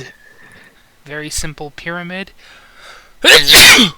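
A single loud, sharp sneeze bursts out close by right after someone speaks a few words.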